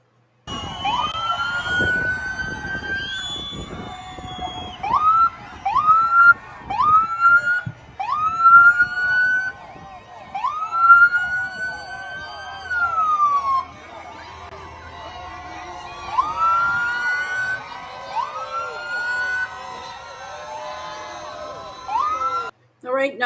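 Police sirens from a motorcade returning to Mar-a-Lago, repeated wailing and yelping tones rising and falling from several vehicles at moderate distance, with crowd noise and voices mixed underneath.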